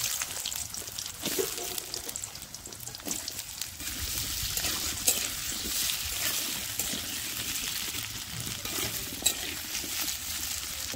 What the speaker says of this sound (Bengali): এবার আলুগুলো ভেজে তুলে নেব।